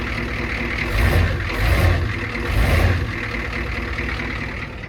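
A 1985 Ford F250 pickup with a 6.9 IDI diesel engine is revved three times in quick succession, each low rumbling rise fading back to a steady idle, loud and close with no speech.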